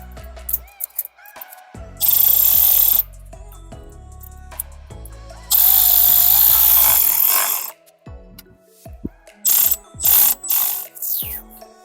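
A ratchet tightens the intake clamp on a Nissan VR30DDTT engine during a 3-inch intake install, with loud, close bursts of rapid clicking separated by quieter handling noises.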